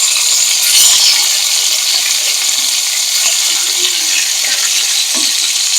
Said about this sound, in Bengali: এক পিঠ ভাজা হয়ে গেছে, আর এক পিঠ ভেজে নিচ্ছি।